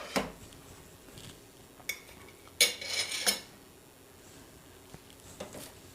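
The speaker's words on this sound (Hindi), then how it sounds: "अब इनको अच्छे से मिक्स कर लेते हैं।" Fruit chaat being stirred in a bowl with sugar and black pepper, giving soft clinks and scrapes of a utensil against the dish, with a brief cluster of louder metallic clatter in the middle and faint taps at either end.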